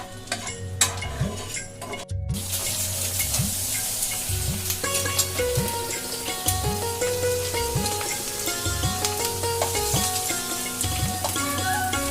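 Eggs fry in a pan with a continuous crackling sizzle, close and steady, broken by regular soft knocks of stirring or pan movement and a few clinks of utensils.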